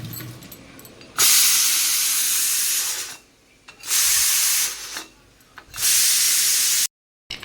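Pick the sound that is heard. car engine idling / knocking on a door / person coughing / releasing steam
releasing steam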